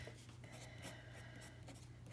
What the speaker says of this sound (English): let me write that down so we all see